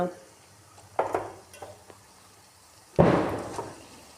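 Chicken pieces go into a pan of cooked onions for an easy chicken stew, with two sharp bursts of sizzling and stirring, the second louder, above a low background hum.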